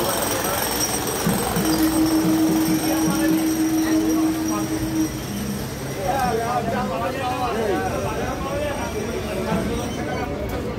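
A Sonarpur–Canning local train pulls out of Sonarpur station with a loud, steady rumble and rattling wheel clatter, a passing horn tone early on and chatter from passengers in the background.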